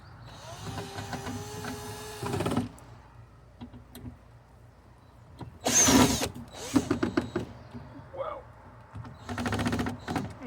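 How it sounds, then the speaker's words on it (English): A power drill whirs in short bursts during repair work on a 1974 AMC Hornet, with several brief whining runs spaced by pauses and clanks of tools, close by, while someone talks between bursts. "I gotta put the right drill bit back on"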